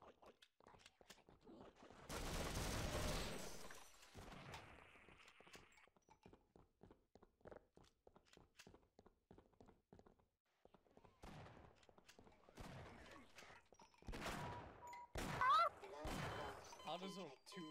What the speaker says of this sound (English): How does two revolver shots not kill him?